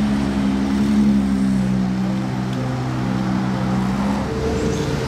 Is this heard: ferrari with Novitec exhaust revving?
yes